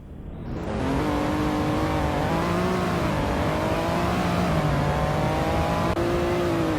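A steady, loud engine drone in the Roblox game Polish Car Driving climbs in pitch as a car accelerates up two gears, with a brief dip where a shift occurs.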